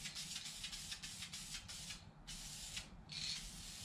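Spray paint hisses in repeated bursts of a second or so, separated by short pauses, applying a final heavy coat on a fire extinguisher mount for a drift-prepped E46 wagon; close and steady, with no talking.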